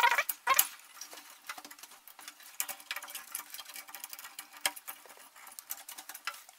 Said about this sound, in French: il suffit de le clipser dessus.